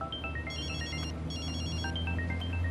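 A phone rings with an incoming call, a repeating electronic melodic ringtone in bursts over a low background hum, fairly loud and close.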